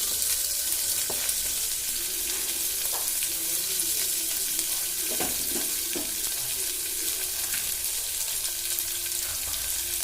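Chopped big onions sizzle steadily in a hot pan while cooking tomato rice with little millet, a continuous bright frying hiss with occasional stirring scrapes, close and alone.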